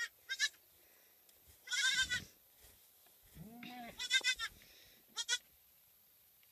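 Goats bleating nearby, a young kid among them, in several loud, separate bursts: high, buzzing, tremulous calls mixed with one lower, wavering bleat, with quiet pauses between them.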